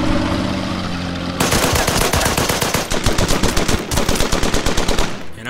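Gunfire in the WWII strategy game Order of Battle: Burma Road, a loud steady hiss giving way to rapid bursts of machine-gun rattle with a short pause between volleys.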